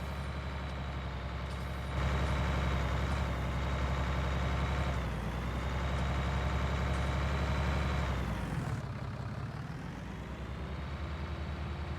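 A tractor engine in a farming simulation game rumbles and idles with a steady hum, dropping in pitch near the end.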